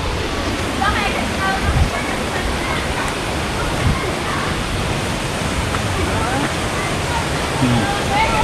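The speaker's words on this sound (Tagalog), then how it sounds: "Dito na tayo mga kaahon sa Kipot Falls." Kipot Falls waterfall pours in a steady, broad roar that stays loud and close the whole time, with a few faint voices partly buried under the rushing water.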